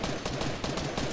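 Rapid gunfire from an online shooter video game, dense and continuous with no gaps, a sustained burst of shots packed tightly together and loud throughout.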